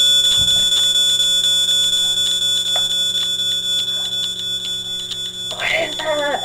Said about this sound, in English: the fire alarm went off at 2:15 in the morning to be exact.